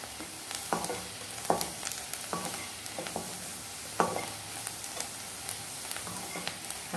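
Prawns frying in a hot pan for Mangalore-style prawn sukka, a steady sizzle with repeated stirring scrapes and clinks of a spoon against the pan, close and moderately loud, no talking.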